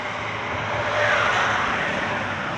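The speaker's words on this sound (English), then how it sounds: "Sorry for the traffic noise," Steady road traffic with cars passing nearby outdoors near a cemetery, a broad continuous roar that swells slightly in the middle and stays loud throughout, with no talking.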